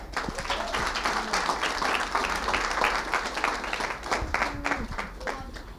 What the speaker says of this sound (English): A warm applause for Anouk.